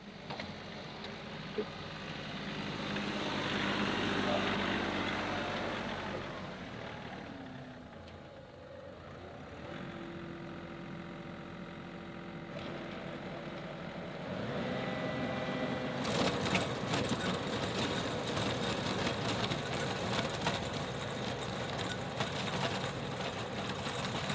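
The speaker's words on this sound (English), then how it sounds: "So I've already got the tiller on the tractor." A tractor engine drones on with a tiller attached, grading sod, its pitch and load rising and falling, growing louder and rattlier partway through.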